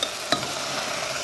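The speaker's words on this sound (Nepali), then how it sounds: "मजाले चलाउँदै भुट्ने है।" Goat trotters marinated with spices and fenugreek seeds fry in a pan, a steady close sizzle with a single scrape of stirring near the start.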